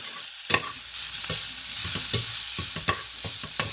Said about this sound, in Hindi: तेज़ आंच में आपने फ्राई इसको करना